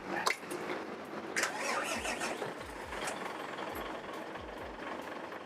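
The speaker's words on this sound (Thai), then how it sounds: "สตาร์ทรถให้ฟัง เสียงเครื่องใหม่มันเป็นแบบไหน" A large new diesel engine in a Fuso 380-horsepower ten-wheel dump truck cranks with repeated low chugging bursts, turning over unevenly at moderate distance without settling into a clear run.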